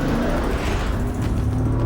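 A heavy four-wheel-drive Bentley Continental Flying Spur accelerates on a closed road, a steady, loud engine drone held close for a couple of seconds.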